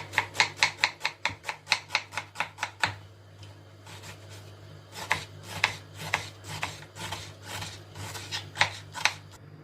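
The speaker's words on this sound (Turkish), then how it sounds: "Soğanlarımızı küp küp doğruyoruz." Onions being diced with a knife on a cutting board, a fast steady run of crisp chopping strikes, a brief pause, then another burst of quicker irregular cuts, close and clear.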